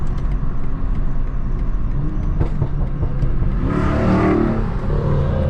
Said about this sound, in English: You hear those pops and bangs, man?